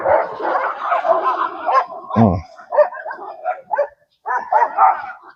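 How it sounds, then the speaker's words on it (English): Several dogs fight on a deck, barking, yipping and snarling loudly and close by in rapid, overlapping bursts, with one short human exclamation. "they decided to fight on the deck."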